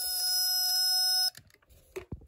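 A Snap Circuits relay alarm buzzes steadily and loudly, its contacts opening and closing rapidly, holding a continuous tone for over a second before cutting off, followed by faint handling clicks.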